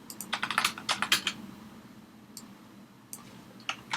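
Rapid clatter of computer keyboard typing and shortcut keystrokes while editing JavaScript code, a dense burst of close, crisp clicks followed by sparser isolated key taps.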